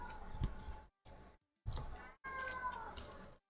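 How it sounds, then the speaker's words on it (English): A cat yells in several long, loud, wavering meows close by, separated by brief silences. "What is my cat yelling about?"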